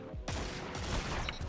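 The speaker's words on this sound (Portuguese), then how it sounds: "Um tiro." A gunshot in the video game Destiny 2 during a player-versus-player fight, a single sharp crack followed by a short burst of further shots, loud against quiet game ambience.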